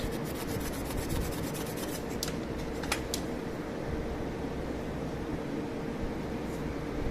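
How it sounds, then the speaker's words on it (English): A wire brush scrubs over cold-welded joints on aluminum plate, producing a steady, faint rasping rub with a few crisp scratches near the start. "you can use this kind of brush to brush it"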